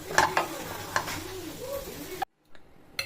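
Coriander leaves sauté in a pan with a steady sizzle and a few spatula clicks, then a sudden cut to near silence before faint clatter resumes.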